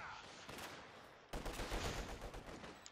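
Machine gun fire in the video game Company of Heroes 2, with DP light machine guns firing in sustained rattling bursts that get louder after a short pause, heard faintly in the battle mix along with some voice.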